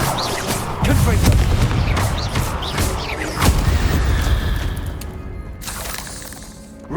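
A Confringo fire-blast spell explodes in Hogwarts Legacy, with loud booming bursts near 1 s and 3.5 s over a sustained rumbling roar that gradually fades, close and forceful.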